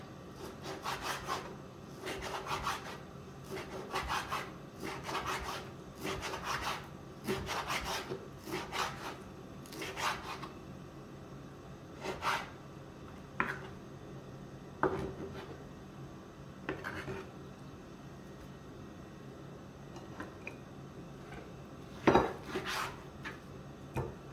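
A knife slices repeatedly through meat on a board, cutting it into long thin strips, steady rhythmic strokes with occasional louder knocks against the wood, close by and without talk.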